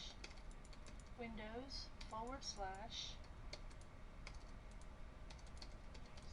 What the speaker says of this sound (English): we're going to type in cd space